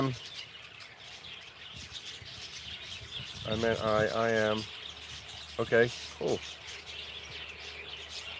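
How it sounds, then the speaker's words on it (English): Tiny finches chirp on a morning in Thailand, with a few short bursts of quick, trilling calls close by, mixed with brief bits of someone talking over a quiet background. "There's a lot of birds here again this morning."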